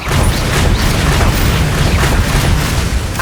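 A Bombarda spell goes off in the video game Hogwarts Legacy, a loud, sustained booming blast that fills the whole moment with dense rumbling noise.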